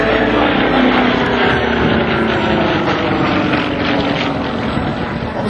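A Sukhoi Su-31 aerobatic propeller plane engine roars loudly close by at an air show, steady and powerful throughout with a slight wavering drone.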